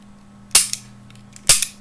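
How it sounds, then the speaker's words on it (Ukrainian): Two sharp shots from a Baikal MP654K air pistol, spaced about a second apart and fired close by, each snapping loudly over a faint steady hum with a short clack trailing it. "Дергаємо затвор і стріляємо."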